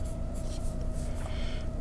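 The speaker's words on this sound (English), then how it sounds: "I'm putting the pencil on, I'm drawing, coloring in" HB pencil lightly drawing and shading on paper, a soft continuous scratchy rasp with faint strokes, quiet and close throughout.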